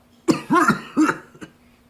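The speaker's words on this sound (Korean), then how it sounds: "기침 소리까지 예사롭지 않게 들렸어요" A tired, unwell father coughs and clears his throat over the phone, a few close, rough bursts followed by a short final hack.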